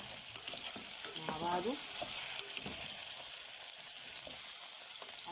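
Potatoes frying with curry, turmeric, chili and salt in a pan, a steady bright sizzle with occasional stirring scrapes, close up while someone speaks briefly over it.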